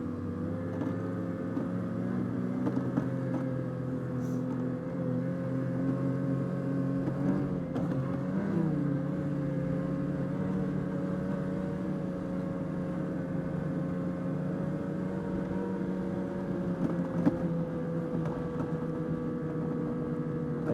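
A Ski-doo MXZ 600R TNT base-model snowmobile with stock shocks rides over bumpy snow with rocks underneath, its engine droning steadily and close with slight pitch wavers and occasional knocks.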